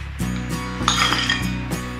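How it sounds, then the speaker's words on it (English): Ice being removed from a chilled cocktail glass for an espresso martini: several light glassy clinks and rattles of cubes against glass, fairly close, with a brief busier jingle in the middle. "So we take away this ice."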